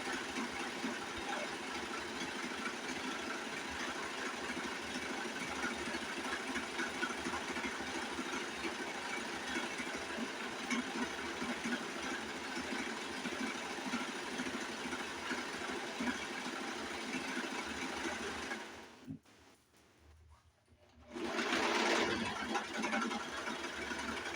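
A serger sewing machine runs steadily while stitching around the edges of fabric for a headwrap. It gives a close, continuous mechanical whir for about nineteen seconds, pauses for a moment, then starts again.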